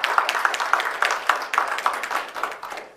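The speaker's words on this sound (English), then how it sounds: "if you would just help me give them a big round of applause" Light applause for students at a Reach Georgia scholar signing, modest clapping from a small crowd, steady and fairly close, with no talk over it.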